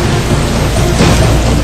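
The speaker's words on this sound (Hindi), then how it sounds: "लगातार हो रही तेज बारिश ने मुंबई की तेज रफ्तार रोक दी" Heavy, unbroken downpour drums steadily over Mumbai streets, a dense loud roar of rain with low rumbling beneath it and no voices.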